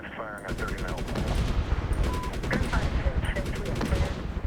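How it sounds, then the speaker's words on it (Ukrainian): Rapid bursts of heavy 30mm cannon fire from an AH-64 Apache helicopter in the video game Medal of Honor (2010), loud and continuous, with faint game sounds between volleys. "30-мм гармата"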